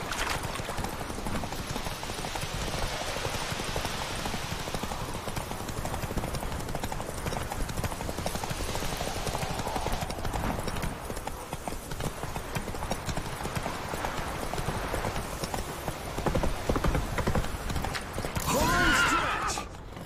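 The horse Roach gallops with a steady clip-clop of hooves in the video game The Witcher 3, continuous and close, with a whinny near the end and voices talking over parts of it.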